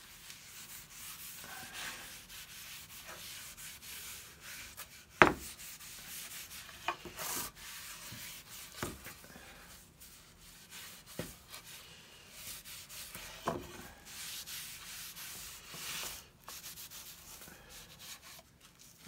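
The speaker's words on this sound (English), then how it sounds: "Got a piece of an old t-shirt here. And just start rubbing it in." Cloth rag torn from an old t-shirt rubbing oil into a wooden serving board, a soft continuous scrubbing with occasional sharper knocks and scuffs, close and fairly quiet, with no talk.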